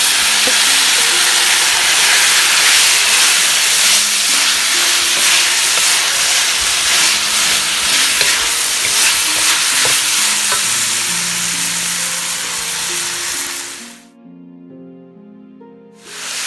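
Beef cubes for shaking beef fry in a very hot pan, a loud constant sizzle and hiss with stirring scrapes, easing slightly before cutting off near the end, where faint tonal music follows.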